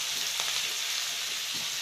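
Garlic crackles in hot oil as a tempering for a village-style bottle gourd and moong dal dish, heard as a dense, continuous sizzle with a few faint stirring touches, steady and close.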